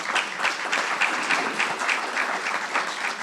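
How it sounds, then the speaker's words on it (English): Audience at a District 3 community meeting applauding to honor Jackie Robinson Day, steady clapping from a modest crowd with individual claps audible in a rhythmic, even pattern throughout. "I think that deserves a round of applause"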